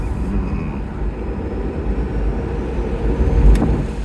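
A BMW i8 Roadster drives through a turn, giving a steady road and engine roar close up with a brief thump near the end, without speech.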